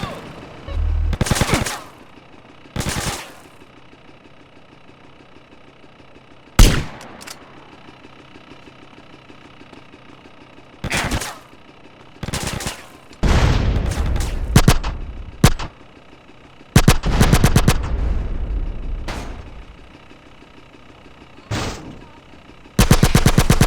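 Gunfire erupts in Grand Theft Auto: San Andreas around a roadblock: loud bursts of automatic fire and single shots come in irregular clusters, separated by quieter gaps of low engine hum.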